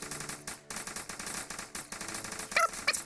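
Rapid automatic gunfire in the Fortnite battle royale game, bursts of quick repeated shots in a choppy rhythm with brief gaps, plus a few sharper bright effects near the end.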